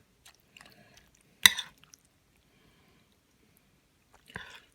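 Someone chews a mouthful of pulled pork with wok-cooked vegetables. The sound is faint and close, with a soft wet bite and a few squishy chews separated by quiet pauses and no talking.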